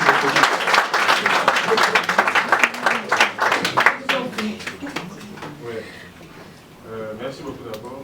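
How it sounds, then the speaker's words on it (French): Audience applause for a Congolese vice-minister of education at a public event, steady dense clapping that tapers off over several seconds, with voices talking over it toward the end. "Applaudissez pour le ministre."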